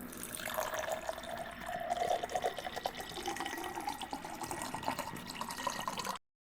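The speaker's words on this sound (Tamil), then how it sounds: "இப்போ வடித்து எடுத்ததை நம்ம குடிக்க போகிற கிளாஸில் சேர்த்துக்கலாம்" Strained homemade pomegranate juice pours into a drinking glass, a steady liquid trickle and splash running continuously for about six seconds at close range with no talk.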